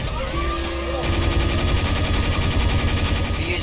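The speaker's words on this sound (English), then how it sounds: "Keep shooting him." Rapid gunfire from players shooting at a boss in a Team Fortress 2 zombie escape map, a dense continuous rattle of shots that swells after the first second and stays loud throughout.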